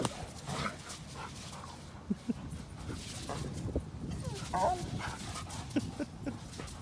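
Dogs romping together outdoors on an afternoon walk, with scattered short yips, snorts and playful vocal bursts over rustling movement and ambient noise, a couple of sharp clicks or pops standing out.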